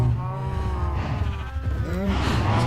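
Sheep in the video game Minecraft bleat repeatedly in wavering, nasal calls over a low background hum, with several overlapping bleats heard close by.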